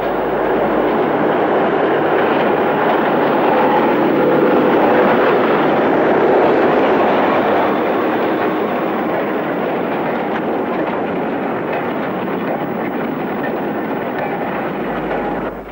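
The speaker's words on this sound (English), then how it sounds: "D6887 takes out a load of newly mined coal." Diesel locomotive D6887 hauling a coal train, a loud, continuous engine roar with rumbling wagons passing close by, easing off slightly toward the end.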